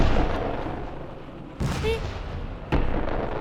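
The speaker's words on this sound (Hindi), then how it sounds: "मैंने बम गोलों की आवाज सुनी अभी" Sharp blasts like bombs and shells exploding burst out against a dense rumbling background, with a few separate heavy booms standing apart.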